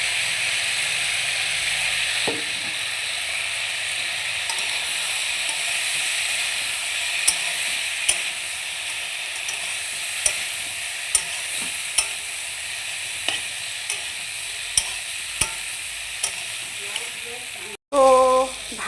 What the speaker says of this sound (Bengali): এবার সোয়াবিনগুলো আস্তে আস্তে দিয়ে দেবো, এটা একটু ভাজা ভাজা হোক।